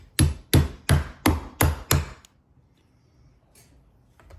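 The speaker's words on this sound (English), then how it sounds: "So when in doubt, give a little tap tap." Six sharp metal taps, evenly spaced and close up, as a bearing is driven into a snug RC steering knuckle on an SCX6 crawler using a socket on the outer race, followed by near silence.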